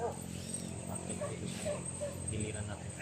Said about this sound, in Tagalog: Nagkagulo yung mga aso, naririnig ko